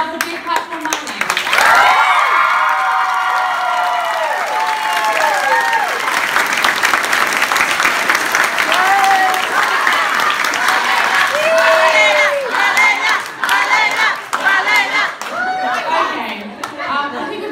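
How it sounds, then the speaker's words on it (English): An audience at a school production claps and cheers loudly and steadily, with whoops and excited shouts rising over the dense clapping throughout. "So I'd love a big clap for my name."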